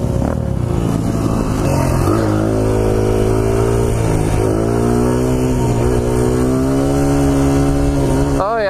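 A pit bike engine runs close and loud with a smooth, steady drone, its pitch rising and falling slightly with the throttle, and a short voice cuts in at the very end.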